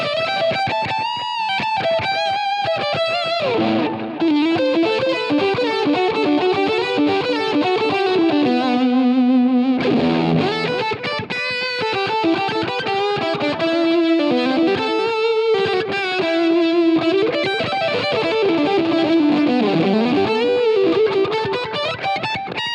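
Semi-hollow electric guitar with humbucker pickups run through a Line 6 Helix patch, playing a continuous distorted, chorus-tinged lead line with sustained notes and fast runs, loud and steady throughout with no talking.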